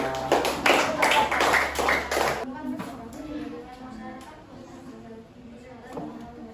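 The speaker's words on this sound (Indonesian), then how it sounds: "Oke, kita kasih tepuk tangan buat kelompoknya Reksa." A classroom of students claps for a student group, a short burst of hand claps for about two and a half seconds that stops abruptly, followed by quieter room sounds and a teacher's voice.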